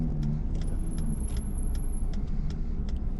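A truck cruising at the speed limit on the 35W highway nearing downtown Minneapolis, a steady close road rumble and tire roar filling the cabin, with faint ticking above and no voices.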